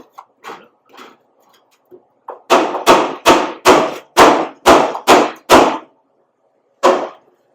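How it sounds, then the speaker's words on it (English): Hammer blows on steel struck from inside a custom car body, a quick run of about eight loud, sharp metallic hits in steady rhythm, preceded by lighter taps and followed by one final strike. "Do a little action with the hammer from inside."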